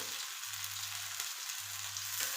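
Pieces of cut mackerel fry in a pan with a steady, soft sizzle and crackle, faint and close, with no voices.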